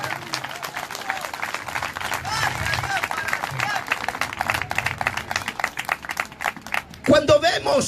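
A church congregation at a Pentecostal service applauds in praise, dense sustained clapping filling the room under continuous speech, swelling into louder bursts near the end.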